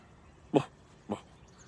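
A person vocally imitates a dog's low bark, producing two short, gruff woofs about half a second apart, close and moderately loud, in an otherwise quiet room.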